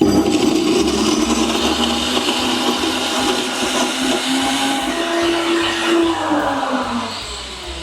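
Blender set to speed 3 whirring steadily through an ice cream smoothie, a loud continuous motor drone that holds its pitch and slowly rises before easing off near the end.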